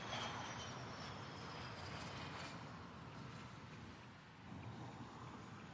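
A private jet passes overhead at Louisville's SDF airport with a faint, distant, broad engine roar that slowly fades.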